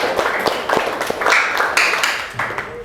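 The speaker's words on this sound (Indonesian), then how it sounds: "Berikan tepuk tangan untuk yang 2 orang." A classroom of students gives a short burst of applause, dense overlapping hand claps mixed with a few voices, fairly close and loud.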